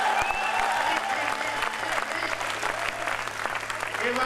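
An audience at a kavi sammelan, a poetry recital evening honouring martyrs, bursts into loud, sustained applause with dense clapping and some crowd noise throughout.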